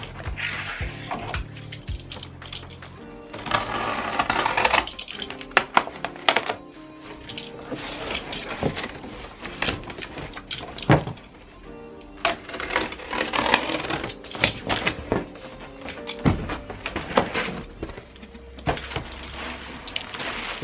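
A blade cuts through a cardboard box to remove its bottom half, making continuous scraping and crunching with irregular louder bursts over about twenty seconds; no speech.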